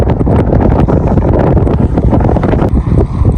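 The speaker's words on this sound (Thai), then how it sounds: "ลมพัดแหงแทบมาอยู่พี่" Strong wind buffets the microphone during a river crossing, a loud, gusty rumble with rough thumping bursts that never lets up across the short stretch.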